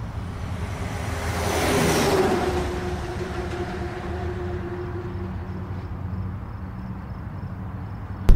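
A car travels a highway on a long road trip to Quartzsite, Arizona, with a steady low road rumble inside the cabin. A louder whooshing swell passes early on, and a sharp click sounds at the very end.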